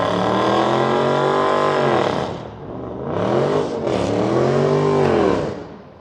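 Car engine revving hard nearby during work on a Tesla Model Y front bumper lip spoiler, loud and sustained, rising and falling in pitch through several throttle swells without talk.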